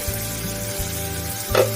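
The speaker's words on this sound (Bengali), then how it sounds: "আলু ভাজা হয়ে গেছে" Steady, close sizzling of potatoes frying in a pan for a Bengali green papaya dish, with a short clatter of stirring near the end.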